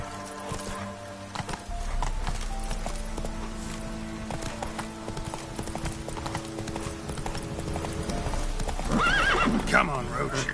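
Roach, the horse in The Witcher 3, gallops with steady clip-clop hoofbeats throughout, a short whinny near the end, and game dialogue heard over the hooves.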